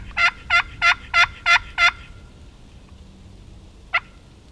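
Six evenly spaced raspy yelps from a turkey box call in a quick, rhythmic run, then a pause and one last short note.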